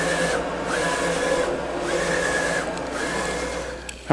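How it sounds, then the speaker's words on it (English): A printer runs while printing on gold metallic printable heat transfer vinyl, its carriage whirring back and forth in repeated passes, loud and mechanical, ending with a sharp click. "Now we've loaded our gold metallic to start the printing process."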